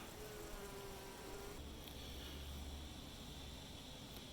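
Honey bee workers buzz around a queen at a new hive, a faint, continuous hum of many wings outdoors with a steady, even drone throughout.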